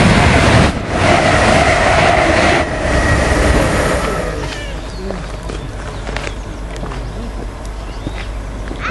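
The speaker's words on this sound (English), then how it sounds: "From the train, the delayed 1520 for ScotRail service to Edinburgh Waverley from Glasgow Central" ScotRail passenger train passing close by at Kirknewton, a loud rushing roar of wheels and rail that fades to a lower rumble over several seconds.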